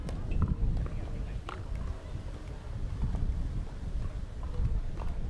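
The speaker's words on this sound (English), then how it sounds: "Just a stupid amount of wind going on right now." Strong wind buffets the microphone in continuous low rumbling gusts at an outdoor pro pickleball match, loud and unbroken throughout, with no voices.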